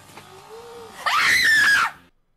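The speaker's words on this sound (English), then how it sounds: "Why did you scream like that, woman?" A woman lets out one loud, shrill scream lasting about a second, cutting off abruptly, after a brief quieter vocal sound.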